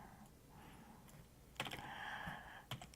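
Soft, quick keystrokes tap on a computer keyboard in a quiet room, with a few sharper clicks standing out near the end over a low background hum.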